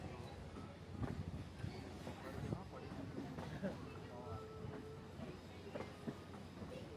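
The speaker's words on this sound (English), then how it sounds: "Our train is approaching Oxbow Curve." A Jim Thorpe scenic railway train in Pennsylvania rumbles along the tracks approaching a sharp curve, with faint clicking and creaking, while a voice speaks over the rolling noise.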